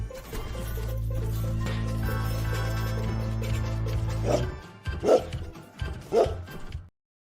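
A dog barking sound effect used as a show outro: a steady sustained tone fills the first few seconds, then three loud, separate barks ring out, spaced about a second apart, before ending abruptly.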